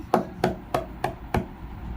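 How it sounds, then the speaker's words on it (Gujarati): Five firm knocks on a wooden door, evenly spaced about a third of a second apart, close and distinct with no voices. "દરવાજો ઠોકવા લાગી"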